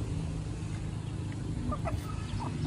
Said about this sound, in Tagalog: meron ding mga manok dito sa kapitbahay